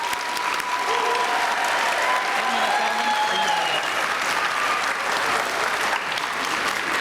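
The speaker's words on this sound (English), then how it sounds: "Let's give them a huge round of applause." Sustained applause from a school audience for 5th grade students at an elementary awards ceremony, a dense even wash of clapping lasting throughout with faint voices mixed in.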